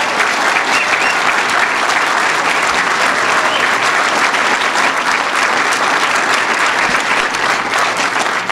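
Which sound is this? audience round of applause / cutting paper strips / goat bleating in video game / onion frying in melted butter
audience round of applause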